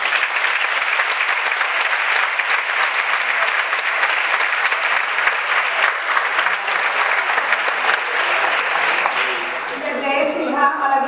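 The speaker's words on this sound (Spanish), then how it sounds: "un fuerte aplauso al bajo" A concert audience applauds the bass player at a show, a dense, steady wash of clapping lasting about ten seconds before a voice begins speaking as it tapers off.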